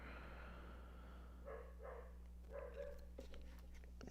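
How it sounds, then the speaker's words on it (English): Dog barking in a nearby room, several muffled, faint barks in two short bursts over a steady low electrical hum. "Sorry if you hear my dog barking."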